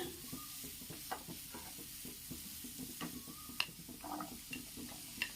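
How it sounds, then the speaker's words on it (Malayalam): Onions sizzle gently in a pan while a spoon scrapes and stirs in irregular taps and scrapes, close and fairly quiet. "സവാളം ചേർത്ത് ഒന്ന് ഇളക്കി ഒന്ന് ചെറുതായിട്ടൊന്ന് വഴറ്റിയ ശേഷം"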